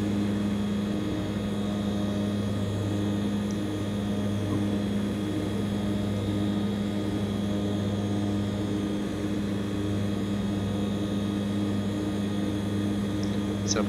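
Hawker Siddeley HS 748 turboprop in a P3Dv4 flight simulator, banking through a turn, a steady loud propeller drone with a constant engine hum held unchanged throughout.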